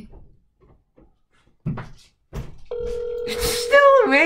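Telephone ringing during a prank call, heard through a phone speaker as a steady electronic tone late in the clip after quiet stretches with scattered voices and clicks.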